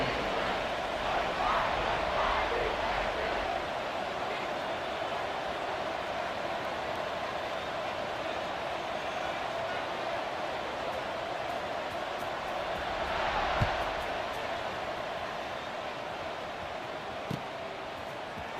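A stadium crowd in an American football video game keeps up a steady, broad roar for the whole stretch, with a brief swell partway through and no speech.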